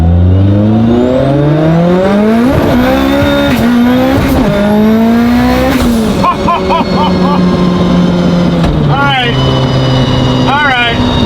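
A Mitsubishi Evo fitted with a sequential transmission accelerates hard, its loud engine note climbing through several quick upshifts with sharp breaks between gears, then backing off with pops and rising revs; a voice talks over the engine.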